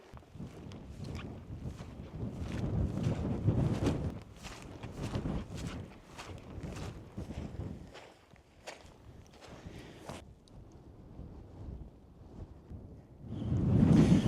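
Wind gusts buffet the microphone on an English mountainside, a rumbling roar rising and falling, with footsteps crunching along underneath and a strong gust at the end.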